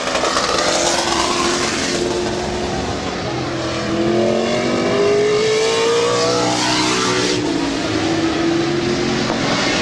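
A race car laps Midvale Speedway during afternoon qualifying, its engine droning steadily and loud throughout, with pitch rising and falling as it swings through the turns.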